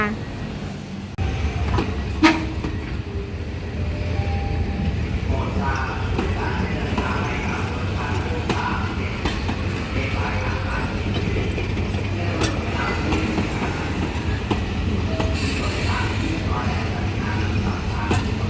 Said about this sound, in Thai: ปู่จีเคกำลังทำขบวน 313 ค่ะ